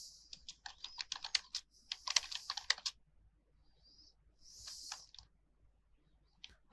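Rapid keystrokes on a computer keyboard entering a title in editing software, a close burst of irregular clicks that pauses, then resumes briefly with a few scattered taps, no voices.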